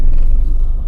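A manual car's engine gives a low, close rumble that holds steady for a moment, with no voices over it.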